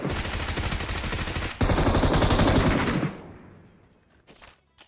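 Rapid automatic gunfire in a shooter video game, dense bursts of rattling shots close and loud, stopping abruptly before a fading tail and a few faint distant pops.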